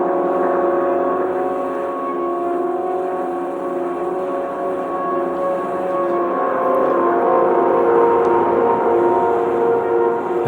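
Sustained tonal drone processed through a delay with long feedback, layered repeating tones smearing into a dense, saturated wash that holds steady and loud, evoking leaves drifting in the wind.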